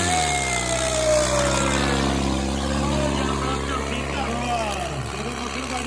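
A heavy Ford tractor engine drones loudly and steadily at a tractor pulling contest in Nurmahal, Punjab, its deep rumble shifting slightly in pitch as it labors.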